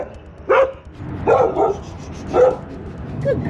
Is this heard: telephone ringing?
no